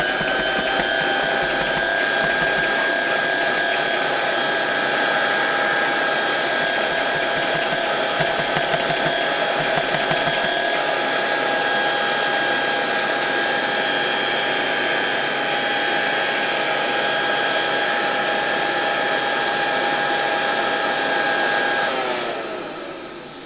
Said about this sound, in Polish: czyli włączam sam odkurzacz.